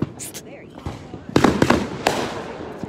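A few firework explosions pop and crackle at moderate distance, three or four bursts in quick succession, with a voice speaking close by at the start.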